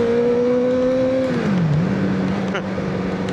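A Honda Fireblade motorcycle pulls hard in first gear, its loud engine note holding a steady high whine close by before sagging and settling lower, with constant rushing road and wind noise beneath.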